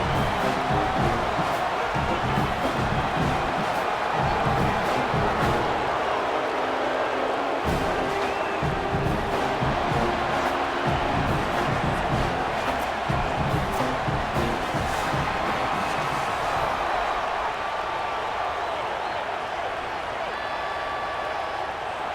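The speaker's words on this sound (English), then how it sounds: "The crowd has packed this place out, and you can feel the energy reverberating." Loud, continuous stadium crowd roar and cheering in a college football video game, Clemson Tigers versus Virginia Tech Hokies, filling the whole stretch as a dense, steady wall of noise.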